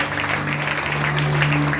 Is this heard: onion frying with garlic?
no